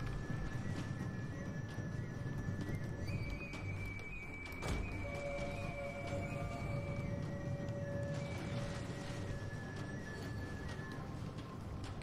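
Horses of mounted horse archers in the Total War: Attila battle game, a steady busy clatter of hooves and movement with occasional whinnies under a dense mix of battle noise, continuous and moderately loud.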